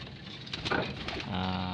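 Pigeons in a backyard loft giving low, rolling coos up close, one bird calling repeatedly with a soft patter of movement alongside.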